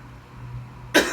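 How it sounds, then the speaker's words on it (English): A single sharp, close cough from a man smoking a Cuban San Cristobal cigar, bursting out after near silence and followed by a short tail of breath. "See, told you got that cough."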